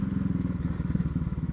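A motorcycle engine running while riding on a Brazilian road, a close, steady rapid thumping pulse with some clatter, loud and continuous with no talk.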